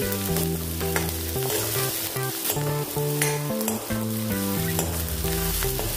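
Steady frying sizzle and crackle of ginger and garlic in a pan, running underneath louder background music with a clear melody.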